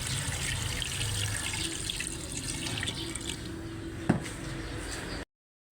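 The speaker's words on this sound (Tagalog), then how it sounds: "Maglalagay tayo ng konting tubig." Water runs steadily from a tap into a pot, a continuous splashing rush with one brief clunk near the end before it stops abruptly.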